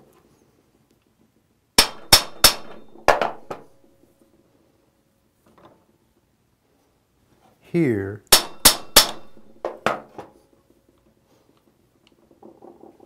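Sharp metallic hammer taps on a bushing in a transmission planetary carrier, two quick bursts of three or four ringing clangs separated by a pause, close and loud, with a brief spoken word.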